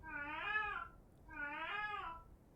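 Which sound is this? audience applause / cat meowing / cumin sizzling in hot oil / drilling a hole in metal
cat meowing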